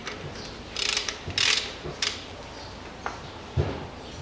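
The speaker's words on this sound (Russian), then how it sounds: "И откручиваем вот этот нижний болт." A ratchet wrench works on the lower bolt of a 2003 Toyota Caldina engine being removed for heavy oil consumption, giving scattered close metallic clicks and clunks with quiet pauses between.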